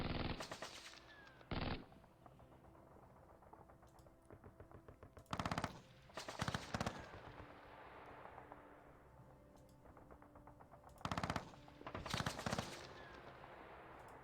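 Game gunfire from Panzer Campaigns, a Japan 1945 wargame, comes in sharp bursts of rapid machine-gun fire and single shots, loud and separated by quieter gaps, with no speech.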